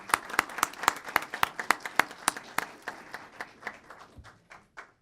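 Council meeting audience applauding briefly for a performance, a few dozen distinct claps in a quick steady rhythm that thin out and trail off after about four seconds.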